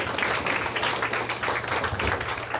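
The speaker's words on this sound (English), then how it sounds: "give him a round of applause." Brief patter of audience clapping at a community group's monthly meeting for a county sheriff, fairly faint and scattered over a low room hum.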